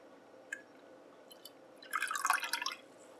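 Liquid acid dye dripping and pouring onto a wool yarn cake, a few faint isolated drips followed by a brief, louder burst of wet splashing and trickling near the end, close by and without speech.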